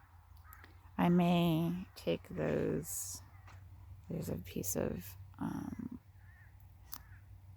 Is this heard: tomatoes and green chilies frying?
no